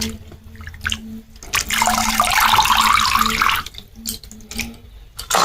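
Cut bottle gourd pieces are washed under running water in a sink, a rushing pour in the middle with splashes and trickles before and after, close by.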